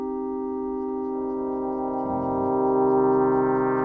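Sustained synthesizer organ tone with LFO filter modulation, a steady harmonic chord that grows brighter and richer partway through as the moving filter opens, heard alone.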